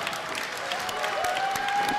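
Crowd at an AWF wrestling TV show breaks into steady applause during an arm-drag exchange, a dense continuous patter with a faint whistle-like tone rising over it.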